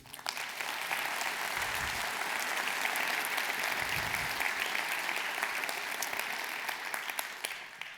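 Steady applause from a large crowd at a municipal New Year's greetings ceremony, dense clapping that carries on evenly throughout without pause, heard from a moderate distance.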